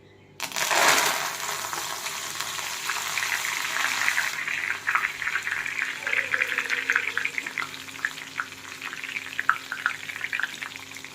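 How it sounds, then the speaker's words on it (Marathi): Coriander leaves dropped into hot oil and deep-fried for a crispy namkeen snack, with a loud burst of sizzling at first that settles into a steady, crackling fry with small pops. "मी कोथिंबीर यामध्ये टाकणार आहे आणि ही कोथिंबीर तळून घेणार आहोत"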